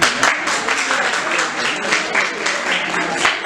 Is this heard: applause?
yes